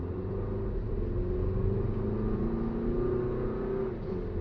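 A 2023 Toyota Highlander SUV gently accelerating toward 50 mph, heard from inside the cabin as a steady low engine drone with road rumble, smooth and even, without speech.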